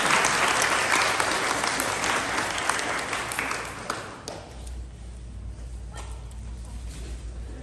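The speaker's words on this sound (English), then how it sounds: "let's give her a big round of applause" A fifth-grade end-of-year awards ceremony audience claps in a dense, loud burst that tapers off after about four seconds into quieter room noise, with a few scattered claps and a murmur of voices.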